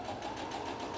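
A sewing machine stitches a fabric face mask, giving a brief, close, steady rapid whir of needle strokes.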